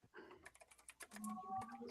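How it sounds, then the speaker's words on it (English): Typing on a computer keyboard during a live amateur radio chat stream, a quick irregular run of faint clicking keystrokes, close to the microphone, with a steady tone and some background sound underneath. "So I was typing because I saw that Grouch said nice shirt"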